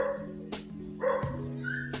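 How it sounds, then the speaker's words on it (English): Dogs barking in a home setting, a few sharp barks and yips spread over two seconds, fairly close and steady, with no speech over them. "And the dogs are barking."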